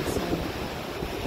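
Ocean waves washing ashore in a steady broadband roar with wind noise across the microphone, continuous and moderately loud for the whole stretch, with a voice faintly heard.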